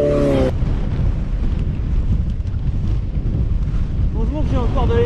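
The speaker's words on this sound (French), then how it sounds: "Oh putain, il y a combien de vent?" Strong headwind roars into the microphone of a cyclist riding an ultra-distance stage in western France, a loud steady rushing that fills the whole clip, with a brief voice at the start and a faint one near the end.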